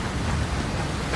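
A hailstorm in Reutlingen, Germany, heard as a loud dense continuous roar of falling stones and rain, steady and close without pauses.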